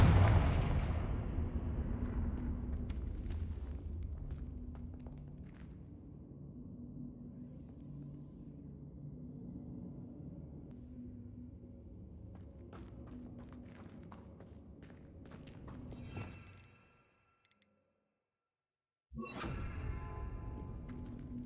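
A Confringo blasting spell is cast in Hogwarts Legacy and opens with a loud burst. A long low rumble follows, with scattered impacts, then a sudden drop to near silence before the noise returns.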